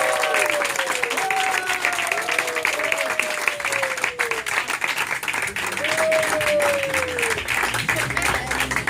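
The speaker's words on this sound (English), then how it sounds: "I want you guys to give a special round of applause to newly security license representative" A gathered crowd at a Saturday meeting gives a steady round of applause for a newly licensed representative, the clapping continuous and full while a voice talks over it.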